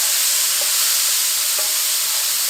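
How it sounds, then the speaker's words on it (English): Minced garlic and herbs sizzle steadily in a hot pan, a dense close frying hiss with a couple of faint clinks from stirring, with no voices. "let's go ahead and add a good healthy tablespoon of minced garlic. We're just going to stir this around with the other herbs"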